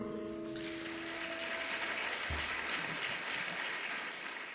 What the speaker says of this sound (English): I'm going to ask for another round of applause